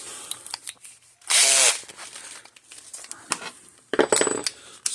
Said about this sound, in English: Slow my drill down to a lower speed so it doesn't spin as fast, and maybe it'll catch better.